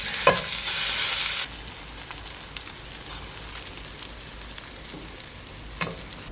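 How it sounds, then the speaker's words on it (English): Buttered garlic bread slices go down into a hot pan with a loud burst of sizzling that settles after about a second and a half into a steady softer crackle, with a few sharp clinks along the way and no talking. "I'm first just gonna put some butter on all the pieces of bread. All right, now I'm just gonna add a little bit of minced garlic, and then I will toast these."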